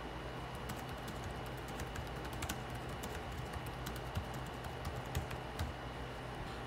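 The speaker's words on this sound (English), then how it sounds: "For me, this keyboard is comfortable to type on." Steady typing on an Acer Chromebook 14 laptop keyboard, a quick run of light, close key clicks with a few slightly louder taps, heard alone over a faint room hiss.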